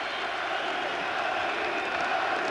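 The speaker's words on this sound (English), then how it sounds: "Crowd are going absolutely wild" A packed boxing arena crowd roaring before a Prince Naseem Hamed fight, a steady, dense wash of cheering and shouting with no single voice standing out.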